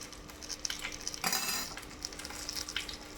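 Onion, garlic and green chilli frying in a pan, a steady sizzle with a sharp burst of hiss midway as chilli goes into the hot oil, plus faint stirring clinks.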